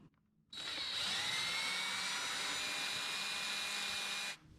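A power tool whirs continuously for about four seconds while backing the screws out of the air box lid on a Dodge Challenger, with a steady high-pitched drone that starts and stops abruptly, close and without speech.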